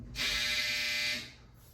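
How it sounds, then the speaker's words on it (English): A steady, loud electronic buzz from a clothes dryer sounds for about a second, then cuts off abruptly, leaving faint room noise. "It's the dryer, y'all."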